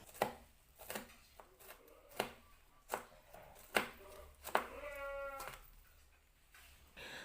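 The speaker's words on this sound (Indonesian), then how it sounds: "2 biji cabai merah keriting diiris serong." A knife chops through red curly chilies on a cutting board in sharp, evenly spaced strokes, about eight crisp cuts, while a sheep or goat bleats faintly in the background midway through.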